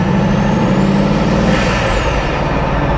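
Bugatti cruising at about 60 km/h with a loud, steady turbo whoosh and hiss over a continuous engine drone from inside the car.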